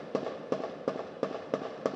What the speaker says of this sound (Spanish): En las calles de Puerto Príncipe, el ruido de los disparos es constante.